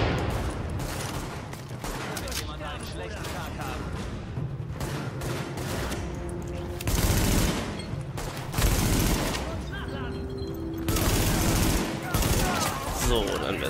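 Gunfire rings out in the video game Tom Clancy's The Division, with repeated bursts of automatic fire and heavier blasts coming in waves, some close and loud, with someone talking over parts of it.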